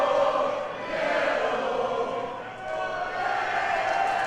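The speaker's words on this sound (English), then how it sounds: "And these fans coming out of nowhere now supporting him. As you can hear the volume rising." Wrestling fans in an arena crowd cheer steadily, the broad roar dipping briefly and then swelling back to a loud sustained level.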